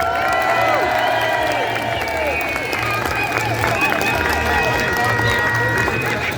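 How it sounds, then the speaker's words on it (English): Outdoor rally crowd in Glasgow applauding and cheering continuously, a dense wash of clapping and voices with chanting tones mixed in, steady and loud throughout. "Let's get a round of applause for everybody that's travelled distances today."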